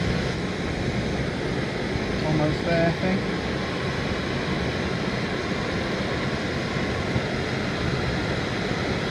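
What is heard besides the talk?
MSR Pocket Rocket 2 camp stove burning, boiling water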